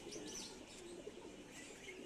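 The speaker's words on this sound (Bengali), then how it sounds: "এগুলা বড় কবুতর" Large domestic pigeons coo softly on a rooftop, low rounded calls repeating close by with faint chirps mixed in, quiet and steady throughout.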